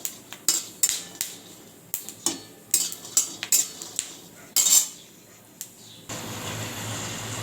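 Peanuts roasting over low heat in a pan, with irregular clinks and scrapes of a spoon stirring against metal, then a duller rushing noise at the end.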